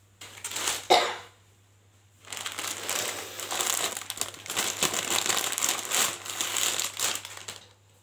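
A person coughs and clears their throat from pungent tempering fumes in a home kitchen, with one sharp cough burst early on, then a longer stretch of rough, crackly throat sounds, close and fairly loud, with no talking.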